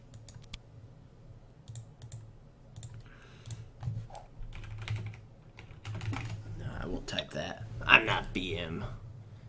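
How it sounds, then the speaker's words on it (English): Computer keyboard keys clatter in quick, irregular bursts close to the microphone while a person murmurs and talks quietly over the typing, which grows busier toward the end. "Stream can see what I'm typing."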